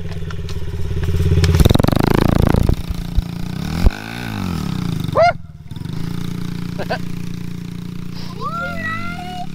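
Kids ride a small motorbike in first gear, its engine buzzing and revving up and down close by, with a loud burst of throttle early on, then a steadier idle-like putter as children shout and talk over it.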